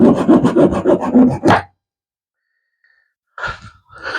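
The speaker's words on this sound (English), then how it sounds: "Let me take my saw." A hand saw cuts through wood in a run of quick, close rasping strokes, then stops, and a few more short strokes follow after a silent pause.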